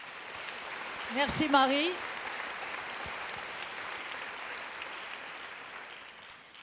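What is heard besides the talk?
audience applause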